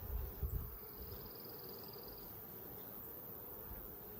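Honey bees hum around an opened hive during a hive check, a soft, steady buzzing drone under low handling bumps near the start, with no talking.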